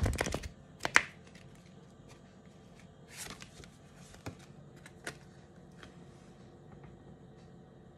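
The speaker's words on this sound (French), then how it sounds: "Je vais prendre une petite carte de l'oracle Catharsis." Oracle cards shuffled by hand in a quiet room, with crisp riffling bursts at the start and near one second and softer scattered flicks and taps after, close and with no talking.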